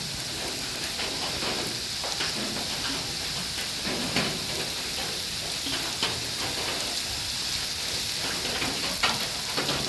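Chopped leeks sizzle steadily in a hot pan of pasta, a dense continuous frying crackle with scattered pops, close and fairly loud with no talking.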